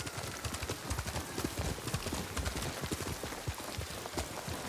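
A horse gallops in Ghost of Tsushima, its rapid, steady hoofbeats pounding close and loud throughout with no talk over them.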